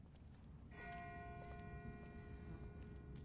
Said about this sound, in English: That's not the same bell as before. This one's further off.